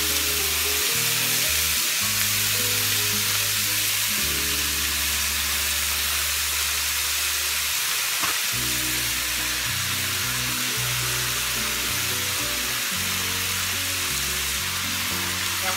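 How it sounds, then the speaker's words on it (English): Ground beef browns in a frying pan with a steady, dense sizzle and hiss, loud and close, with occasional stirring and no talking. "What I'm about to do is I'm about to brown up this meat."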